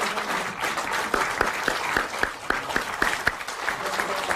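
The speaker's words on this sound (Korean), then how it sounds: "환영과 축하의 박수 한번 주십시오" Audience applause welcoming four new members of a political party at a Korean party gathering, a steady dense wash of clapping with a few sharper individual claps standing out across the whole stretch.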